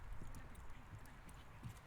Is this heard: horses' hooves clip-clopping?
yes